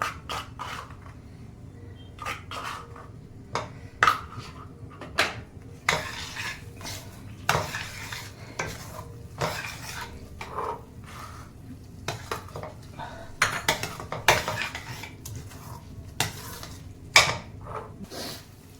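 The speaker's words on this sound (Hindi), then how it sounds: "अब इन सारी चीज़ों को मिला लिया है।" Vegetables and spices with turmeric are stirred in a pot for vegetable biryani, a long run of irregular metallic clinks and scrapes from a spoon against cookware over a low background hum.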